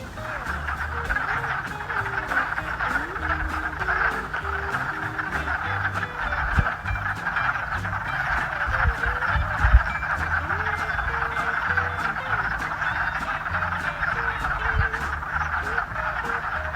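A dense chorus of frogs croaks at a vernal pool: loud, continuous and overlapping, with rapid repeated calls forming a steady wall of sound outdoors.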